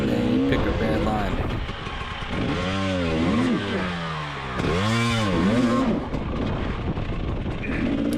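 A dirt bike engine revs hard and rises and falls in pitch while climbing a steep hill, loud and close throughout with a continuous roar and repeated throttle surges.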